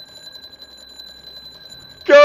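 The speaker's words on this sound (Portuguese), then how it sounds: "Caiu no alarme, caiu no alarme." An alarm trap rings in ARK Survival Evolved, a steady electronic beeping tone heard throughout, and a person starts speaking right at the end.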